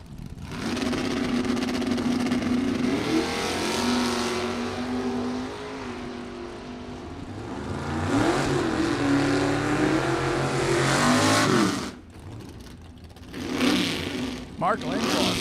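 At a drag strip bracket race, a 1967 Camaro and a 1965 Dodge Mopar super stock car roar loudly down the track, engines climbing through gears and then fading, while an announcer talks over the PA.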